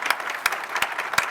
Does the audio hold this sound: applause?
yes